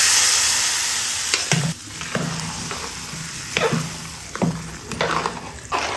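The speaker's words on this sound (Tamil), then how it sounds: "இது போட்டு நல்லா வதக்கிட்டு பெருங்காயத்தூள் கொஞ்சம் போட்டுக்கோங்க" Bisi bele bath base sizzling in a pan as it is sautéed with asafoetida, a steady frying hiss broken by several sharp stirring scrapes and clinks at irregular intervals, close and clear with no talking.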